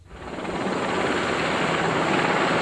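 A Lynx military helicopter in flight, its rotor and engine giving a loud, steady, close roar with fast rotor chop, no voices.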